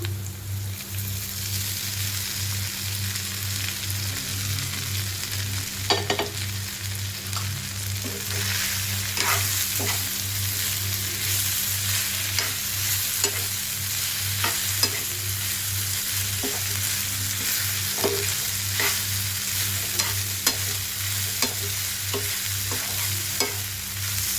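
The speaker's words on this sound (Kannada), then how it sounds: "ಈಗ ಇದು ಕಟ್ ಮಾಡಿ ಇಟ್ಕೊಂಡಿರುವಂಥ ಇಡ್ಲಿ ಹಾಕೋಣ." Cut leftover idli pieces sizzling and frying in a pan while being stirred, a steady close crackle under a low hum, with scattered spoon scrapes and clinks throughout.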